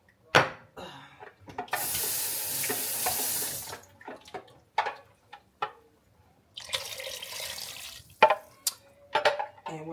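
Water pours from a tap or jug into a pot of neck tail stew in two separate runs, a long gush followed by a shorter one, with light knocks and clatter between them.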